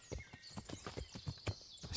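Horse hooves clip-clop at a steady walking rhythm in the medieval game Kingdom Come: Deliverance, close and fairly quiet, the regular thuds continuing alone without talk.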